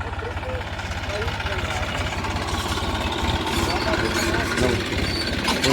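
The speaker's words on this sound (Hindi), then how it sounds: "आ गया ट्रैक्टर लेके, पावर टिलर आ गया खेत में" A tractor pulling a power tiller through a sugarcane field drones loud and close in a steady, throbbing rumble that runs without a break. Someone talks over the engine.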